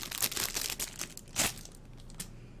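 Small plastic bag from a BlizzCon goodie bag being handled and opened, with close, crisp crinkling bursts, one sharper rustle midway, then quieter fumbling.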